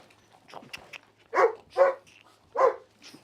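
A dog gives three sharp barks spaced about a second apart, fairly close and moderately loud, preceded by faint softer vocal noises in a quiet room.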